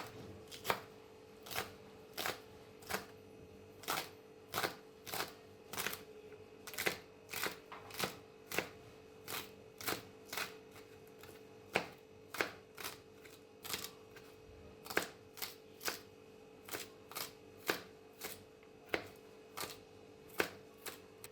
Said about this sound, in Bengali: এবার পেঁয়াজকলি ছোট ছোট কুচি করে নিচ্ছি।